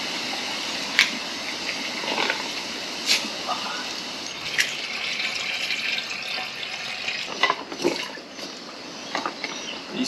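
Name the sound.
filling plastic water storage containers with water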